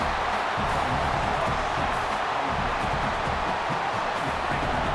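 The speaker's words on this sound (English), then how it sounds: "listen to this crowd noise. This stadium is vibrating" Steady dense roar of a packed stadium crowd in the EA Sports College Football video game, a constant wash of cheering noise with no breaks.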